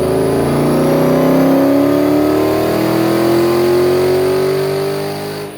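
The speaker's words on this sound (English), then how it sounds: "707 horsepower, loud, in-your-face supercharger." A supercharged V8 in a Dodge Hellcat revs hard and loud, its pitch climbing steadily with a supercharger whine before the roar tapers off at the end.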